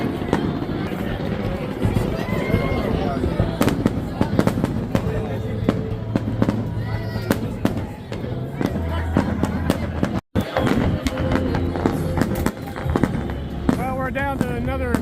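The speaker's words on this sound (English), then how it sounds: "And now the fireworks." Fireworks burst over and over at Six Flags Over Texas during the 2024 total solar eclipse, loud sharp bangs and crackles in a dense run, with crowd noise and voices talking throughout.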